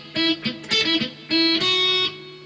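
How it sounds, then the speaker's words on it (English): Electric guitar playing a section of a song, with short bursts of bright, sustained notes and chords separated by brief gaps, close and clear with no voices. "if I play that section through for you, it'll sound like this"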